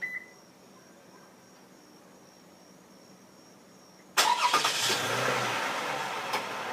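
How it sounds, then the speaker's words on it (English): A 2012 Toyota Sienna Limited with a plug-and-play remote start kit chirps faintly at the start, then after a quiet pause its engine suddenly cranks and settles into a steady idle, close by and alone. "The car is gonna signal back to you with 2 beeps telling you that the remote start is gonna kick in and start the vehicle."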